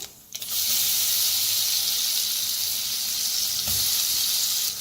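Mustard seeds, cumin, asafoetida and ground spice paste roasting in a pan with curry leaves and coriander for kadhi vada, a loud steady sizzle that starts abruptly and stays dense and continuous throughout.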